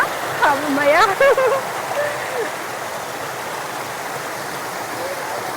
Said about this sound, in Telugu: ఆ పైనుంచి దుంకుతుంటే ఆ శబ్దం చూడండి ఎట్లా వస్తుందో